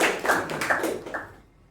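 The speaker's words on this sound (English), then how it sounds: "So a round of applause to our speaker and our evaluator." A small group at a Toastmasters meeting claps for a speaker and evaluator, a few loud close hand claps in loose rhythm that fade out after about a second and a half.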